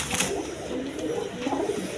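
Big colored Rajgolla pigeons, a fancy breed, coo in low murmuring calls, steady and close, with soft bird chatter throughout and no talking.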